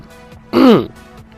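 Someone yawns once during a video game commentary. It is a short, loud, voiced yawn that slides downward in pitch and stands alone against a quiet background.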